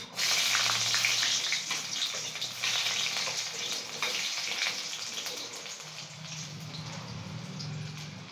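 Chopped garlic fries in hot oil in a wok while egg chicken fried rice is being made, a continuous crackling sizzle that fades slightly over time.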